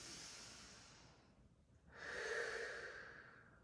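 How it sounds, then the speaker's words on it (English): A deep, full inhale and exhale during a hypopressive breathing exercise in a 90/90 hip stretch: a long airy breath that fades, a brief pause, then a stronger rushing breath, close and clear with no talk. "Take one more full breath."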